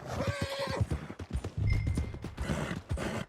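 A horse whinnies loudly and close in Red Dead Redemption 2, with clip-clopping hooves and several more neighs and snorts following.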